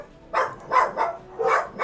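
Dogs in a home bark in short bursts, four quick, moderately close barks in an uneven rhythm over a quiet background.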